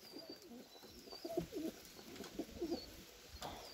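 Soft, low coos of a smoky grey Turkish tumbler pigeon repeating in short bursts, close by and fairly quiet, with faint chirps from other birds in the background.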